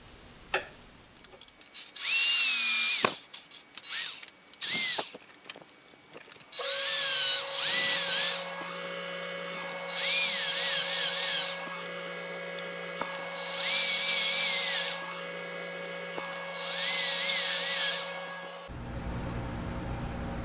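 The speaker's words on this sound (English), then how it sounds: "now I'm going to drill all the indexing holes and the screw holes" Repeated bursts of a power drill whining at high speed, drilling indexing and screw holes for a Hardinge Cataract bench lathe restoration, several seconds each with short pauses between, loud and close, with a steady hum underneath.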